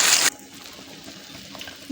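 Pasta drops into a pot of boiling water with a short, loud splashing hiss at the start, then only a faint quiet bubbling.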